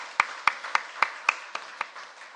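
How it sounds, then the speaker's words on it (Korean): Sparse, evenly spaced sharp claps at an early-morning church prayer service, around eight distinct slaps in a steady rhythm against a quiet room, fairly close and gradually softening. "모든 성도님들께 감사의 박수를"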